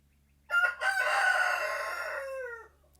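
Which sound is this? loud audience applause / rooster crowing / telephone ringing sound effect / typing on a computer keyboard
rooster crowing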